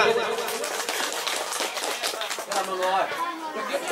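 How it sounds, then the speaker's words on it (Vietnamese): Wedding guests break into applause, a dense field of many hands clapping steadily and fairly loud for several seconds, with crowd murmur mixed in. "cùng dành cho chú một tràng pháo tay thật lớn thật nhiệt được không ạ"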